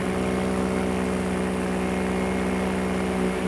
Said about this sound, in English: And Scout is the paramotor flying right now